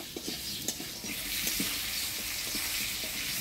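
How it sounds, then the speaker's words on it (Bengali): Potatoes frying with whole cumin, turmeric and salt, a continuous close sizzle with repeated soft knocks of stirring through the first half, no talking. "লবণ দিয়ে আলুটা একটু ভাজা ভাজা করে নিব"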